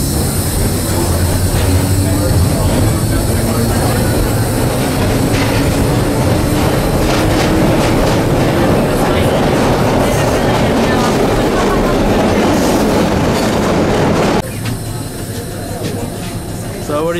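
A vintage subway train rides along the tracks, a loud steady rumble with wheel squeal and clatter throughout, easing slightly near the end, with faint voices underneath.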